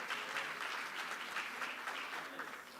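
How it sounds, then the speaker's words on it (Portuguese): Audience at a Brazil–Chile energy and strategic minerals forum claps for a panelist joining the stage, a moderate wash of applause heard from some distance, steady throughout with no voices over it. "Un aplauso para ella."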